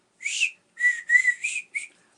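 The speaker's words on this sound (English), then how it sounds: "I hate the whistle on it" A clear, high whistled melody from a song, played as five short phrases separated by brief gaps, with nothing else underneath.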